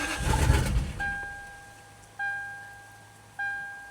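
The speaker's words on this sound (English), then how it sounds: "the fuel pump is priming and then it shuts off" A Lexus parked for ten years and not running briefly turns over and catches for under a second with a rough, low rumble, then dies. Three evenly spaced electronic tones follow, each fading out, with no talk.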